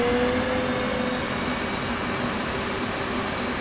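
A steady F/A-18C jet engine whine in DCS World spools at a constant pitch, loud and continuous, with no voices over it.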